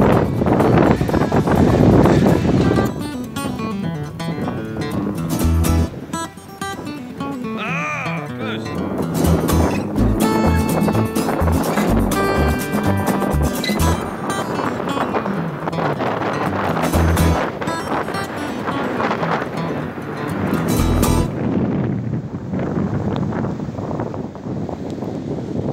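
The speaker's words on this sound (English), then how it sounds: "Guys, you reckon the wind is blowing today?" Strong wind on a golf course buffets the microphone with loud, continuous rumbling gusts that shift in intensity throughout, without a break.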